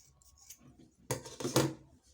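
Scissors snip through stitched fabric to trim off excess from a braided ruffle turban, giving a couple of close, crisp cuts in quiet surroundings.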